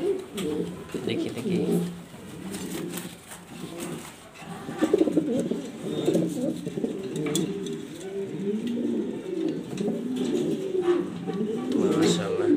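Cooing of black exhibition-quality pigeons in a loft, low rolling coos repeating continuously throughout, fairly close, with faint background chatter.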